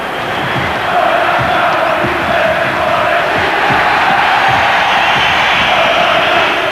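A football stadium crowd at the 1994 UEFA Cup Final between Casino Salzburg and Inter Milan roars after a tackle, with a loud, sustained mass of cheering and shouting that swells and holds steady.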